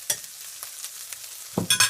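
Butter added to a hot pan while making Kaiserschmarrn gives a few short sizzling bursts, with quiet gaps between them and a louder crackling flare near the end.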